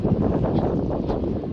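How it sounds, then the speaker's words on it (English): Strong wind roars and buffets the microphone at a pond during bass fishing, a dense, continuous rush with no break. "cause the wind blowing so hard"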